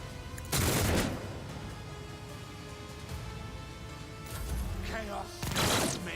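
Bursts of gunfire from a Run and Gun attack in the Rogue Trader video game: two loud, dense volleys roughly five seconds apart, the first short and the second longer, over a steady low background of battle ambience.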